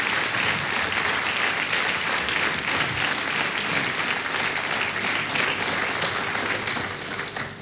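A studio audience bursts into loud, sustained applause during a televised interview in Portugal, a thick continuous clapping that tapers off slightly at the very end.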